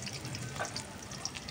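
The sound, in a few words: frying onion, garlic and green chilli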